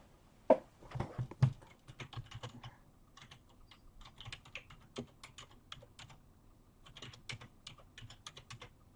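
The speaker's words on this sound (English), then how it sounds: "So let me type it in." An email address being typed on a computer keyboard: uneven bursts of close, crisp key clicks with short pauses, no talk.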